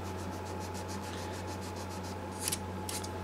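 The neck of a 1966 Guild Starfire guitar is sanded by hand, a steady close scraping rub with a faint rhythmic stroke pattern over a constant low hum, then a couple of brighter scuffs near the end.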